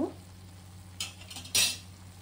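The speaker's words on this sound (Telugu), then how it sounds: "సో మష్రూమ్ వేసిన తర్వాత ఒక 2 మినిట్స్ అట్లాగా మగ్గించుకోవాలి" Mushrooms and mixed vegetables sizzle in a pan for veg schezwan fried rice, with a few short scraping stirs, the last one the loudest, over a quiet steady hiss.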